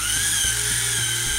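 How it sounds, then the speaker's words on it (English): A small handheld drill whines steadily as it bores little holes, loud, close and continuous, with a high mechanical pitch throughout. "I'm just going to drill some holes with this little drill"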